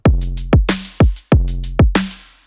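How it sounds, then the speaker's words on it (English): A layered snare drum hits in a short repeating beat with kick, combining a bright clap-like crack with a shimmering ride, each hit trailing into a wide reverb tail, alone and clear. "And now the snare sounds like this."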